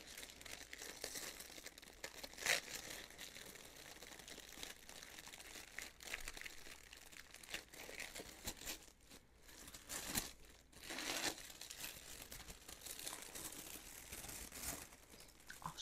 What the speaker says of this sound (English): let me undo this tissue paper.